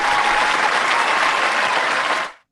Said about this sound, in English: Hang on, I've got some clapping.